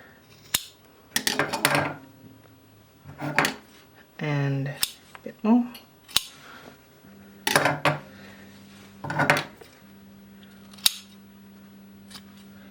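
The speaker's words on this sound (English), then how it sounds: "I'm going to cut off this corner here" Scissors snip through thick coated cloth, trimming a corner off a collar piece. Several crisp, separate cuts come close up, with pauses between them and a voice talking at times.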